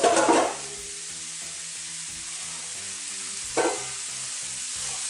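Quinoa sizzles steadily in a hot frying pan, with a couple of louder scraping bursts from stirring at the start and again midway.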